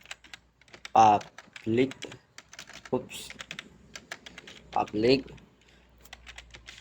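Computer keyboard keys clatter in quick irregular bursts while code is typed into an editor, with someone speaking clearly over much of the tapping.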